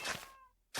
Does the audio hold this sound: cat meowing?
yes